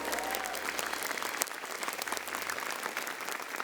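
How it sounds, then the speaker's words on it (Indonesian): A crowd at a stand-up comedy show breaks into steady, sustained applause, dense clapping filling the room for several seconds. "Pakai tepuk tangan dong buat stand up komedi Komika Vaganza."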